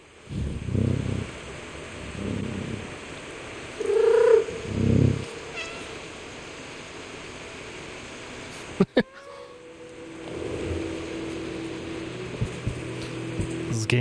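A cat in the video game Stray gives several drawn-out meows and caterwauls with low purring between them, close and fairly loud, followed by a clatter and a quieter stretch of ambient hum.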